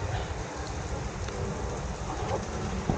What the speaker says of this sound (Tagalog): Lumalakas ang ulan lalo.